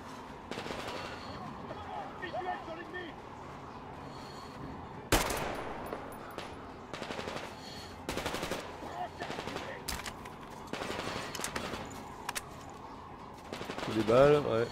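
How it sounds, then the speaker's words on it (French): Gunfire in Metro Exodus: repeated bursts and single sharp shots scattered across the stretch, some loud and close, with a voice talking over the action between shots. "Des balles, ouais, visiblement."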